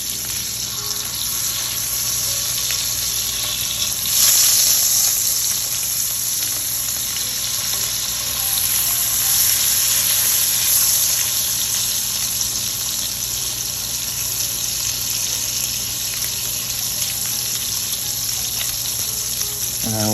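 Beef for Beef Wellington sizzling loudly in a hot pan after being flipped, a steady close hiss lasting the whole stretch with a brief swell early on and no talking.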